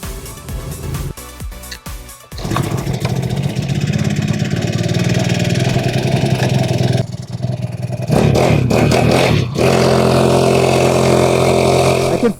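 A cheap Amazon motorcycle's small engine runs close by, a few sharp clattering pulses before it rises into a loud, steady buzzing drone that dips briefly and then revs back up.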